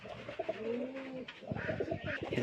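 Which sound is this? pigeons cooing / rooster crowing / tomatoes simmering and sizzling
pigeons cooing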